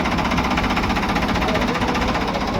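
A tractor engine runs steadily and loudly close by, a continuous rough, knocking drone with no break, heading out on a procession to Sri Anandpur Sahib in Punjab.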